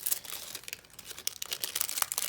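Cellophane wrapping on a package of ephemera crinkles and tears in quick, faint, close bursts of crackling with no talk.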